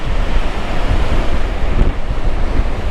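Wind buffets the microphone over steady crashing sea surf on a shore where someone is fishing, a loud, continuous roar with no voices.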